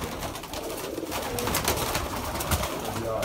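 Sialkoti pigeons coo steadily over a dense, busy background, their low calls blending with a constant wash of noise and no clear talk.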